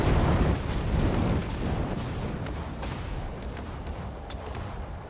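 A warship's wing turrets fire in a naval combat game, with a loud, dense rumble of booming gunfire and crackling bursts. It is strongest at the start and eases to a steady roar.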